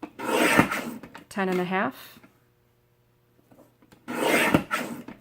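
Paper trimmer slicing narrow strips during a craft workshop: two short rasping cuts near the start and one near the end, with a brief spoken number between them and quiet gaps.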